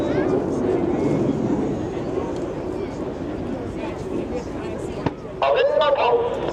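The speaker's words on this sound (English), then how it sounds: "All 4 pilots will simultaneously roll their aircraft 360 degrees as they perform the Diamond Aileron roll" Blue Angels jets fly a four-plane Diamond Aileron roll at the NAS Patuxent River air show, a steady, loud, broadband roar that holds throughout, with voices and crowd noise mixed in and a brief sharper burst near the end.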